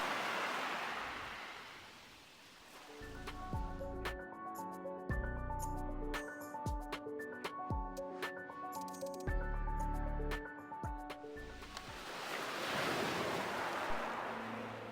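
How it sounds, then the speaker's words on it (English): Waves washing onto Felpham Beach, a soft, broad surf rush rising at the start and returning at the end, with gentle musical tones and chimes filling the middle section. "you could meditate just on the sound of the waves"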